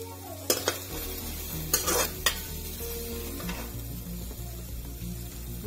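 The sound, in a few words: chopped garlic and onion frying in mustard oil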